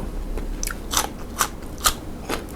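Crunchy bites and chewing sound close up during a meal of Thai rice noodles with spicy fermented fish curry from a convenience store, with four or five crisp crunches spaced about half a second apart.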